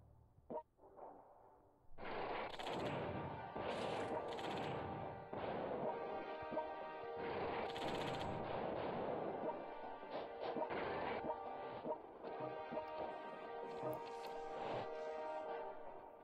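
Artillery barrages in the strategy game World Conqueror 3, a dense run of heavy crashing impacts and booms layered over one another, loud and sustained after a quieter opening.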